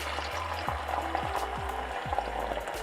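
Eggs sizzling and frying in a pan alongside salami and ham for an omelette, a steady soft hiss with a few low knocking thuds, no talking.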